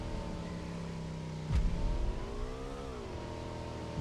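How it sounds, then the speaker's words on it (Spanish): An old motorcycle in PUBG Mobile, its engine humming steadily with a rising and falling rev and a brief louder burst partway through, heard alone. "Motor tua tapi sangar ya guys."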